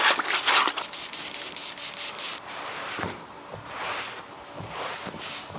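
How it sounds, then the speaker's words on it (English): A stiff brush scrubs a textile car floor mat in quick back-and-forth strokes, loud and close at first, then slower and quieter rubbing passes. "I just scrub it clean"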